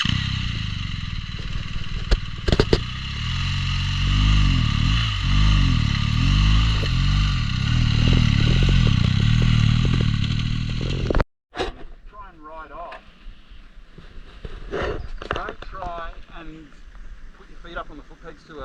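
A BMW motorcycle spins its rear wheel in sand, the engine droning loud and close with rising and falling revs. It then cuts off abruptly, and someone speaks over fainter, scattered motor noise.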